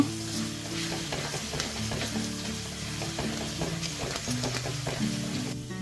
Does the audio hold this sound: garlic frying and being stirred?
yes